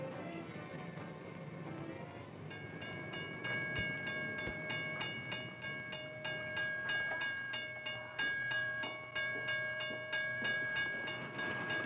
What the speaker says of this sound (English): You can also see goods being moved on a train.